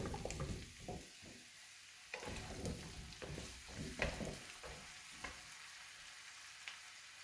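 Small potatoes fry in a wok with a constant close sizzle, broken by intermittent scraping and clattering stirs.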